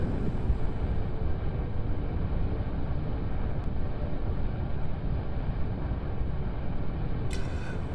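Rocket engines at liftoff in Kerbal Space Program, a steady, loud, broadband roar sustained evenly throughout with no breaks.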